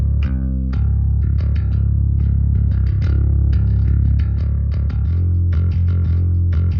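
Bass guitar run through an amp-simulator plugin, cycling through clean, grit, grind and fuzz tones: a steady stream of plucked notes and short phrases, loud and close, with the sound growing more distorted partway through.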